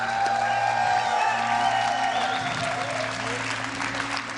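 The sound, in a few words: audience applause for Complexity Red at BlizzCon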